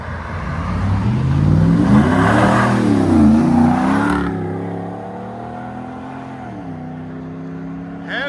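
A RAM 1500 pickup with a 5.7L HEMI V8 and a Carven muffler accelerates nearby, its deep exhaust note rising through gear changes. It then eases off into a lower, steady cruising drone as it pulls away.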